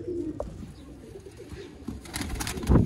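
Sialkoti Tunia Chuha pigeon cooing close by, low soft rolling coos repeated through the moment with faint other birds and rustling behind.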